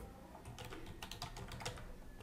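Rapid keystrokes on a computer keyboard as a WordPress post title is typed, a steady run of close, crisp clicks with no talking.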